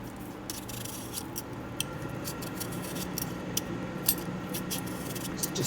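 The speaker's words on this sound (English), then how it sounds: "I'm turning it as I'm peeling" A potato is peeled with a hand peeler, a run of short, rasping scrapes repeating over a steady background hiss, close and moderately quiet, with no talk.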